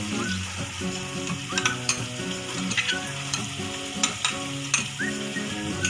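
Steady sizzling of onion frying in a pan with ginger garlic paste, with repeated stirring clinks and scrapes of a spoon against the pot.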